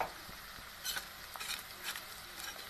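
Onion and garlic frying in very hot oil for a green chili tadka, a soft steady sizzle with brief louder bursts of stirring close by, no talking.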